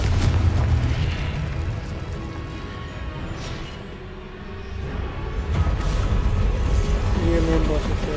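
Confringo fire spell blasting in Hogwarts Legacy during a boss battle: a booming explosion followed by a sustained, rumbling roar of combat effects, loud, with a player's voice talking over it.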